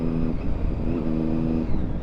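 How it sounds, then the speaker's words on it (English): Triumph Daytona 675 motorcycle with a noisy exhaust idling and revving close by, a loud steady engine drone with rising and falling tones across a couple of seconds. "We accept that our exhaust is noisy"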